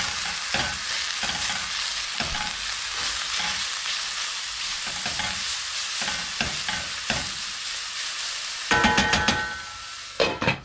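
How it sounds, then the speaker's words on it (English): Rocket leaves with lime juice stirred in a frying pan, a steady close sizzle broken by repeated scraping strokes of the spoon, with a brighter burst of frying near the end. "We'll give that a little bit of a stir."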